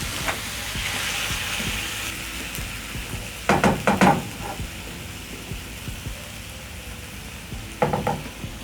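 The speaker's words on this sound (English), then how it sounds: "Then next, I'm going to add my tomatoes." Tomatoes fry in a pan with a steady background sizzle, broken by two bursts of stirring and scraping clatter, one near the middle and a shorter one near the end; no one talks.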